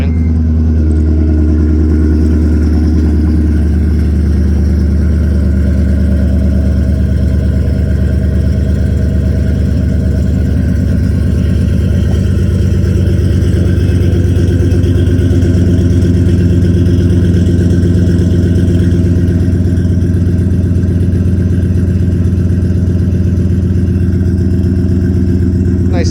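A 2003 Chevrolet Silverado 1500HD with a 6-liter V8 and Flowmaster dual exhaust idles after a cold start, giving a steady, deep, loud rumble throughout, with an alternator whine running along on top.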